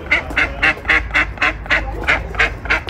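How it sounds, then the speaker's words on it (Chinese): Two pet ducks at the Chinese embassy in France quack in a loud, close, regular series of about ten calls, evenly spaced over a low background hum. "两只快乐的小鸭子"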